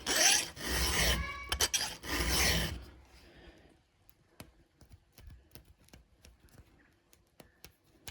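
A chainsaw chain's teeth are filed to sharpen them: a quick series of loud, close rasping strokes, then scattered light taps and scrapes while the file is repositioned. No one talks.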